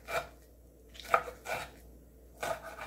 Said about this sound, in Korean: 먹기 좋게 썰어주세요.